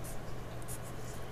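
A Sharpie marker scratches across paper in quick strokes, soft and close with small squeaky bursts.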